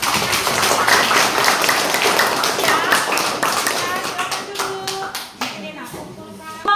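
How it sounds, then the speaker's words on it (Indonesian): A classroom full of people claps enthusiastically after a group presentation, dense applause that gradually thins out into a few scattered claps at the end. "Ya, tepuk tangan."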